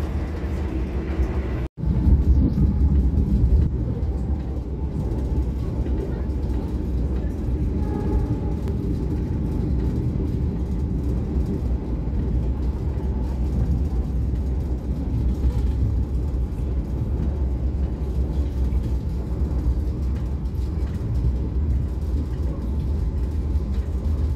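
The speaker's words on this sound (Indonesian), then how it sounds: "Kereta api Argo Bromo Anggrek melintas langsung stasiun Jatibarang" The Argo Bromo Anggrek express runs straight through Jatibarang station without stopping, heard as a continuous deep rumble of wheels and carriage, loud and unbroken apart from a brief dropout near the start.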